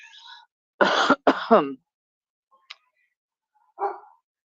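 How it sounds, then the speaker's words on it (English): A few short, gruff barks from a dog, clustered together, followed by quiet and a couple of faint, distant yelps. "Oh, I just heard my dog go. Rah, rah,"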